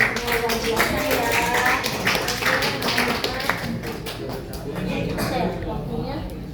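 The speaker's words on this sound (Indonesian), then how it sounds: "Kita tepuk tangan untuk kalian semua yang biasa ya" A group claps hands for students after a session on publishing international journal articles, a steady crowded patter of taps lasting several seconds and easing slightly toward the end, with no talk over it.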